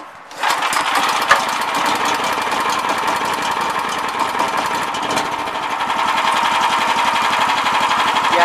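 A go-kart's small engine runs steadily and loudly up close, with a dense, buzzing, vibrating drone and a rapid mechanical chatter that holds throughout.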